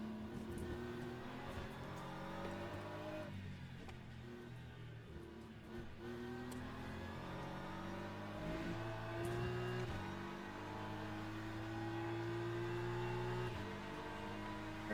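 BMW GT3 race car engine in a racing game at Sebring on a drying track, a steady droning hum with gear changes rising and falling, heard continuously at moderate distance without speech.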